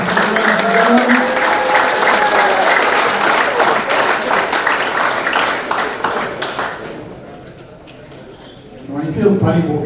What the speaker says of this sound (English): Round of applause, Paul Thompson